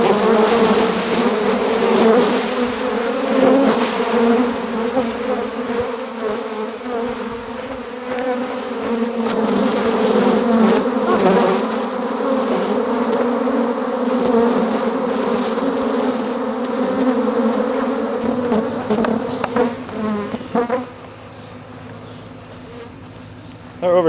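A swarm of honeybees buzzing inside a box, a dense continuous drone with shifting pitch held close and loud for the whole stretch, easing and thinning near the end.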